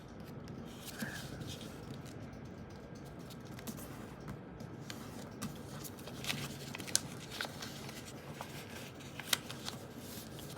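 Sheets of paper rustle and crinkle close by as they are folded for a paper airplane, with soft scrapes and a few sharp creasing snaps across a quiet room.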